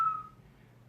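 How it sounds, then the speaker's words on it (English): A single short whistled note, close and clear, that fades out within about half a second over quiet room tone. "I don't know why I whistled."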